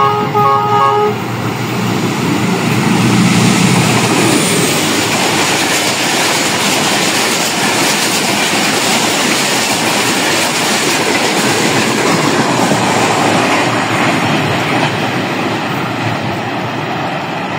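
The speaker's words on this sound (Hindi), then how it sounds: "सामने से आने वाली ट्रेन 40 डाउन जाफर एक्सप्रेस।" The 40 Down Jaffar Express speeds through Muridke railway station in the evening, a loud, close roar of rolling wagons and rattling wheels. A brief horn toot sounds at the start, then a sustained rush that fades only slightly.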